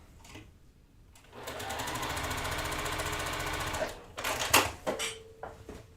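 A sewing machine stitches the last row of a quilt block in one fast, even burst of rapid needle clatter lasting a few seconds. Quiet handling noises and a brief faint voice follow.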